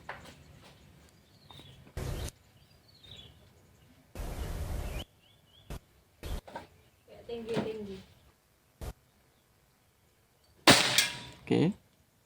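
Several sharp, sudden cracks of air gun shots firing slugs through a prototype barrel at 50 meters, spaced irregularly, separated by quiet gaps, with faint birdsong and brief clatter between them.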